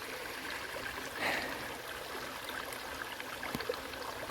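Water in a flowing stream in a video game, a steady, faint, broadband rush that runs alone the whole time, with a brief swell near the start.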